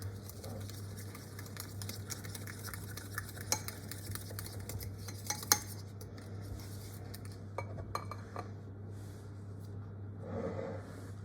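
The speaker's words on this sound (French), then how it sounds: "je mélange." A utensil stirs melted butter and sugar in a bowl for an apple cake, with faint scraping and soft clinks against the dish, scattered sharper taps standing out over a quiet kitchen hum.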